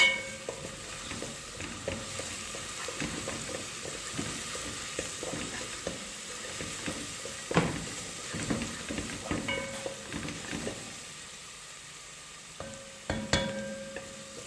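Garlic fries in a pan with a soft, continuous sizzle and crackle, accompanied by occasional clinks and stirring knocks nearby.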